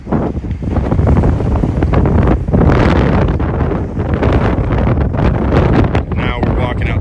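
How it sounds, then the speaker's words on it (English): Strong wind buffets the microphone at a waterfront deck near a jetty during high tide flooding from a tropical storm, a loud steady roar with gusts and faint water sounds throughout. "you're going to start feeling the wind a little bit more"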